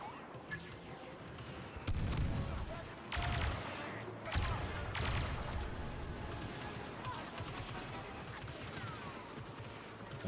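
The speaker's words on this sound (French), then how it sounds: "Restez là et tirez pour nous pousser." Gunfire in the Star Wars Battlefront II campaign: bursts of blaster shots and battle noise come in waves through a busy combat mix, with loud volleys near the start and steadier fire after.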